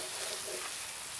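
Paella Valencia cooking on a Weber kettle grill sizzles in a steady, close hiss of frying rice as it is stirred and spread thin.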